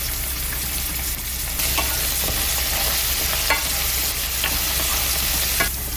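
Minced garlic frying in plenty of oil in a pan, a steady bright sizzle with occasional stirring scrapes and pops, close and continuous with no talk.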